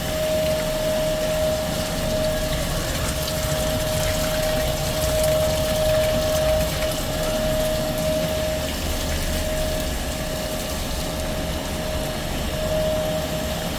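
Water runs into a big soaker sink at a store with a clogged drain, giving a steady rushing hiss and hum alongside a constant high whine, with no talking.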